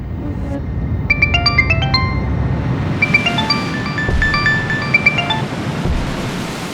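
A bright electronic ringtone melody plays in two bursts of quick repeated notes over a steady rushing background noise.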